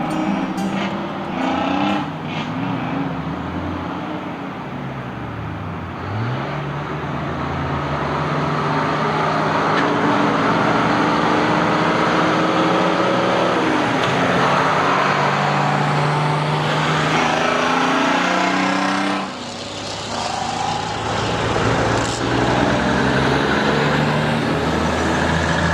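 Diesel engine of an International 190 series truck working hard on a highway in the South Island of New Zealand, a loud continuous roar with shifting engine pitch and a brief dip near the end.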